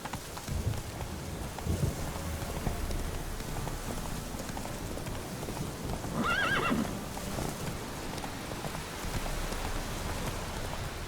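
In The Witcher 3, a horse's hooves clip-clop steadily on the ground under light falling rain, and partway through the horse gives one short neigh.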